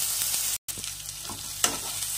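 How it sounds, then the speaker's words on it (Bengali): Green chilli, garlic paste and ginger paste sizzle with onion in a pan, a steady close frying crackle broken by a brief silence, with a few soft utensil scrapes and one sharp clink. "এখন এই সব মশলাগুলো একটু নেড়ে চেড়ে ভালো করে কষিয়ে নিতে হবে"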